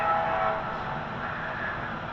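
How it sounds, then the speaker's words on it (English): A train rolls along railroad tracks right beside a house, a loud continuous broadband rumble and rattle filling the whole stretch, with a brief tonal horn-like line near the start. "I hate trains. I live right next door to the tracks."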